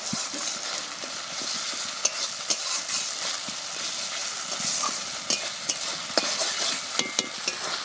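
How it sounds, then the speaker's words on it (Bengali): Ground spice paste fries with onions for a fish kofta curry. A steady close sizzle runs throughout, with sharp clicks and scrapes as a spoon stirs against the pan. "এই মশলাটা দিয়ে খানিকক্ষণ আগে কষিয়ে নেব, তারপর বাকি মশলাগুলো দেবো।"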